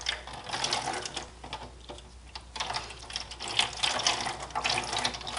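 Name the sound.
dyed yarn lifted from hot water in crock pot, squeezed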